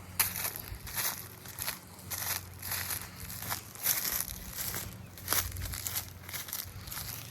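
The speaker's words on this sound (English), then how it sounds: "I'll try to get some of these leaves out off the fence line best I can" Dry leaves being cleared out along a fence line, with repeated close, crunchy rustling and crackling bursts at an uneven working rhythm over a low background hum.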